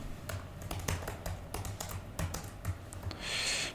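Rapid clicks of a computer keyboard as git commands are typed, uneven bursts of close, crisp keystrokes with short pauses between them, and a brief burst of sharper hiss near the end.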